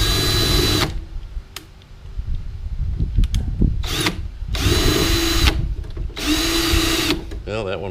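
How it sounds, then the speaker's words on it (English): Power drill drilling out rivets, several loud high-pitched bursts of whirring separated by short pauses, with rattling and clanking between runs, close by. "we're going to drill these rivets out"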